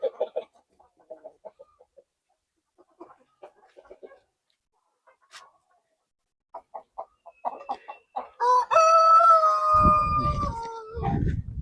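H'mong chickens in a farm pen, scattered soft clucks at first, then a loud, drawn-out rooster crow near the end with a rough burst of noise, close by.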